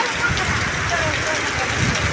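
Heavy monsoon rain pours steadily in a village setting, a dense continuous hiss and patter heard up close at a moderate level with no pauses.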